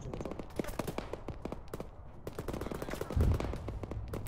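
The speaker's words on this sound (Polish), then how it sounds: "Coś po lewej strzela." Rapid gunfire in ArmA 3, with many sharp automatic shots rattling in uneven bursts at a moderate distance and a heavier thump near the end, with no voices.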